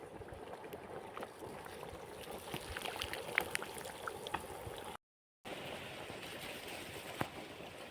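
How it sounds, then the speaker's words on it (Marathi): Steady rushing water gushes continuously from a motor pump onto a farm field, a broad watery roar with a faint mechanical hum beneath, fairly close and unbroken apart from a brief dropout. "पाणी कसलं फास्ट पडतंय बघा तुम्ही आता"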